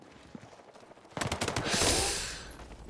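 A rapid burst of gunfire in Battlefield 6 erupts after a quiet stretch, a quick rattle of shots followed by a loud whooshing blast that slowly fades.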